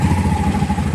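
Motorcycle engine idling nearby outdoors in hot weather, a steady low throbbing rumble with a regular pulsing beat, loud and continuous with no talk over it.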